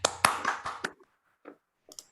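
A single person claps at the end of an online talk, giving a short quick run of about six close claps followed by a few faint scattered taps.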